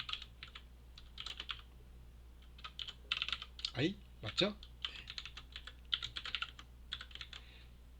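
Rapid computer keyboard typing clatters in quick bursts of keystrokes, close and crisp, with pauses between runs while someone speaks softly over part of it.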